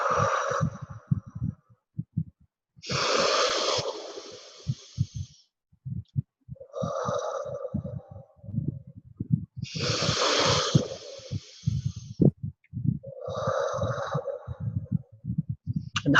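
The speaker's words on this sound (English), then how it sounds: "you carry on with your normal deep breathing exercise" Slow, deep breaths in a relaxation exercise: long airy inhales and exhales come in a steady cycle about every three to four seconds, close and soft, with faint low thumps underneath and no talking.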